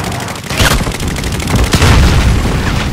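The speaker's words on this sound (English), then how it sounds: "You've got mortars incoming!" Incoming mortar fire in Call of Duty: Modern Warfare, loud continuous rumbling explosions and blasts layered with rapid gunfire, dense and close throughout.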